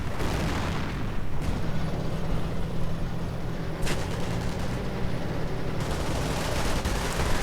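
Dense, continuous battle din from a Company of Heroes match: StuG and Panther tanks firing on Soviet Strelki infantry, with steady rumbling booms and crackling gunfire layered throughout, loud and unbroken.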